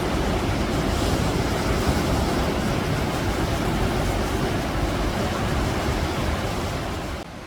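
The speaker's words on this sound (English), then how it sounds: "All the surf is out this morning." Ocean surf at Coolangatta beach on the Gold Coast, a continuous broadband wash of breaking waves with some wind, loud and steady throughout, fading slightly at the end, no talking.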